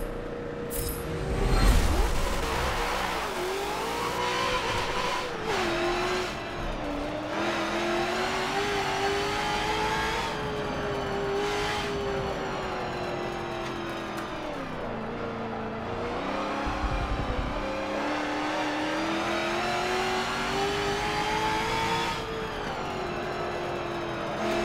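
Race car engines roar in Forza 7 on a track, a sustained high revving whine that climbs and drops repeatedly through gear shifts, loud and continuous.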